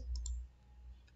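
Computer mouse clicks during a lesson, a pair of quick sharp clicks close together followed by a fainter one, quiet and alone against a near-silent background.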